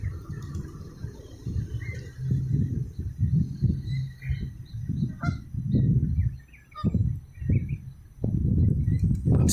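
Geese honk repeatedly among gulls by a waterfront walkway in Bayonne, New Jersey, the calls loud and close, overlapping and rising in bursts over steady outdoor background noise.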